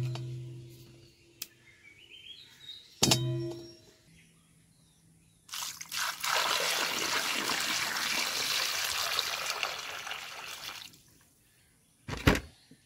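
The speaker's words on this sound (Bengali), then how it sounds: "আমটা আমি জল দিয়ে ভালো করে ধুয়ে নেব, যাতে আমের গায়ে আঠা না লেগে থাকে" Raw mangoes washed with water for a sweet-sour-spicy oil pickle, a broad rushing splash of running water lasting several seconds, preceded and followed by brief knocks and clatter, with faint birdsong in the background.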